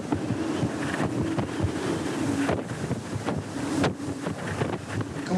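Stormy wind gusting at the Narbonne coast with sea spray, loud buffeting rumble on the microphone and repeated sharp gusts over waves.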